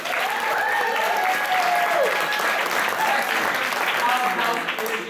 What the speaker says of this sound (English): On that same note, Tex, please round of applause for Tex.